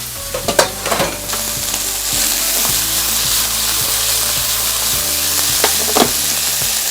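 Seafood stir-fried in a pan on an LG DIOS induction cooktop, a steady loud sizzle running throughout with intermittent scrapes and clinks of a utensil stirring, no voices.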